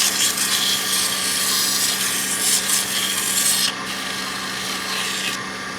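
Sandpaper rubbing against a piece of wood spinning on a lathe, a steady, close, raspy hiss that continues throughout and drops slightly in level partway through.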